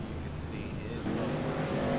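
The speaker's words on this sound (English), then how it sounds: "Cars racing off of pit lane there" Race cars in a sim racing game at Darlington accelerate off pit lane, a steady engine drone that swells and grows louder midway, with talk over it.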